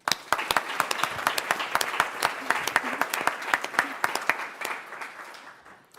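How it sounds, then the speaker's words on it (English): An audience at a forum on white privilege applauds a speaker, sharp individual claps standing out over the steady clapping, which tapers off toward the end. "Please give an applause to Mr."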